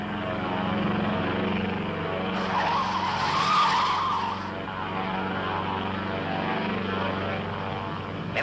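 A propeller airplane takes off, its engine drone roaring steadily and swelling near the middle before easing back, with no voices over it.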